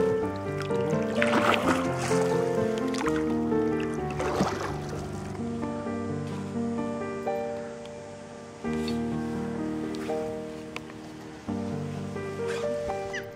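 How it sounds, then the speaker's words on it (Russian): A boat moves across Lake Vuoksa on the Karelian Isthmus, with water lapping and splashing against the hull, set under a continuous layer of background music. "Здесь мы поплаваем на лодке."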